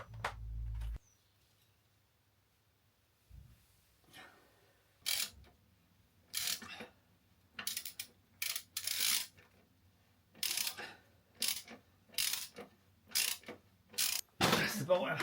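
A ratchet spinning out the bottom bolt on a Harley Sportster in a workshop: sharp clicking bursts repeated in quick succession, close and crisp, separated by short quiet gaps and a low background hum.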